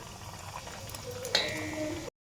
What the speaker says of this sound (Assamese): মই ইয়াতে পিঠাকেইটা এটা এটাকৈ এৰি ভাজিবলৈ দিম